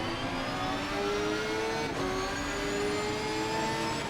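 Two V10 race car engines, an Audi and a Lamborghini, howl in a sim racing game, holding a steady high-revving drone with rising and falling gear pitches, close and continuous throughout with no talking.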